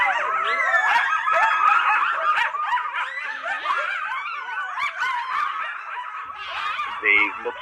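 Coyotes howl and yip in a wavering, overlapping chorus of rising and falling cries that fills the whole stretch at steady strength.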